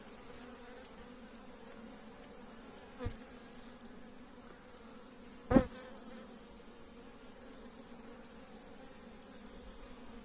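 Honeybees hum steadily around a brood frame lifted from a hive, a faint continuous drone with two brief louder buzzes as single bees pass close.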